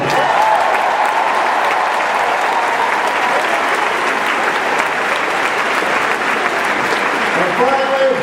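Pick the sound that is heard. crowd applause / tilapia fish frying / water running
crowd applause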